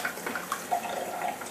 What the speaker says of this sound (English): The water's starting to come out chilled now